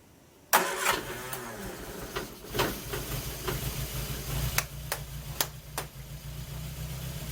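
A barn-find Triumph Spitfire engine, unstarted for 43 years, fires with a sudden loud catch, then settles into a steady rough idle with irregular pops and sharp knocks throughout.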